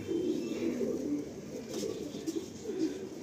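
Madrasi pigeons coo in a loft, soft repeated low throaty calls close by, with a bit of background murmur.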